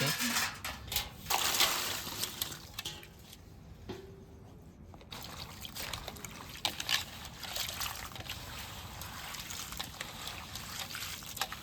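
Prawns washed by hand in water, with sloshing, trickling and dripping that come and go in irregular bursts over the full stretch, close and fairly loud.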